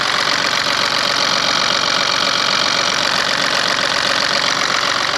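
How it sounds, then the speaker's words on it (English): A BMW diesel engine idles while warming up, its close, loud, steady clattering rumble holding even throughout with no other sounds. "I'm just going to let it warm up for half an hour, the engine"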